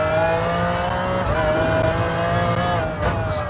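A '96 McLaren F1 GTR race car engine in the game GT Sport drones loudly at high revs through a brief lap stretch, holding a steady tone with a slight dip, no voices.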